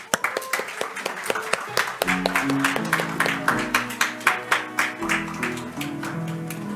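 Church congregation clapping in a steady, rhythmic beat at a New Year's Day Sunday service in Korea, sharp and close, joined by music partway through.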